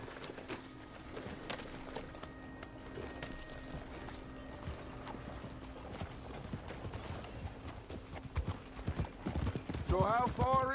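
Horse hooves clip-clop steadily at a walking pace in the video game Red Dead Redemption 2 on Xbox One, with people talking over them and a horse whinnying near the end.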